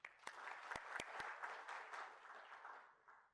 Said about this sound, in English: So I think we clap for them.